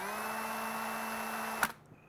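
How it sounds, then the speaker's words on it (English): A drill spins a wooden dowel against a belt sander, giving a steady loud whirring grind that holds evenly, then cuts off abruptly with a brief clunk near the end. "Then I put it in a drill and I lay this up against the belt sander."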